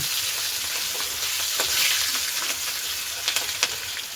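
Green chillies frying in hot oil with dry red chillies, cardamom and bay leaf for a katla fish kalia: a continuous bright sizzle and crackle, with a few sharp pops and scrapes near the end.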